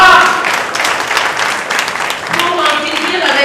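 A crowd claps and applauds energetically, with voices mixed in over the clapping.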